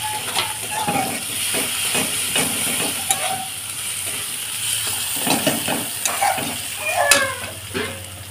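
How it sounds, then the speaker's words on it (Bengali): A spice paste with chopped tomato cooks down in a little oil for a Bengali rohu fish and dal meal, hissing and sputtering nearby while a spatula clacks and scrapes against the pan in irregular strokes. "আমি মশলাটাকে ভালোভাবে কষিয়ে নেব"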